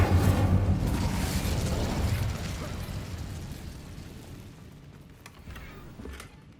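A Bombarda explosion spell goes off in the PS5 game Hogwarts Legacy, a loud booming blast that rumbles and slowly fades over several seconds, with faint crackling debris near the end.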